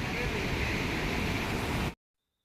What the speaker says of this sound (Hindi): तो ये जो पानी आता है, ये ग्लेशियर का पिघल के पानी आता है